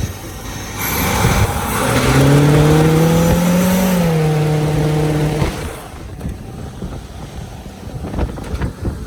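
Chevy C30 dually truck with a 400 V8 burning rubber, loud rising engine roar with wind buffeting for about four seconds, then dropping off to quieter rumble.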